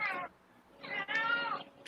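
A cat meowing nearby, two drawn-out meows separated by a short pause, clear and fairly loud against a quiet background.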